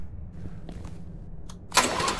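A fuel-powered engine in an abandoned hospital is fired with a start button, a few faint knocks giving way to a sudden loud burst as it catches near the end.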